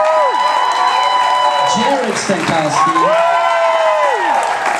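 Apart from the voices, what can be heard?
audience applause and cheering at awards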